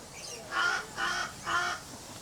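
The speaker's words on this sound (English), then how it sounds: "There's a crow." A crow at a bird park caws three times in a steady, evenly spaced rhythm, fairly close and clear over quiet background.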